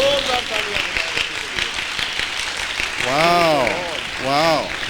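An audience at a divine healing conference in Mirpurkhas applauds in a continuous dense patter, while drawn-out voices call out excitedly over the clapping toward the end.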